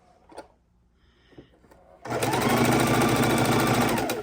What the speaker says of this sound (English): take them back into the sewing machine and stitch them across.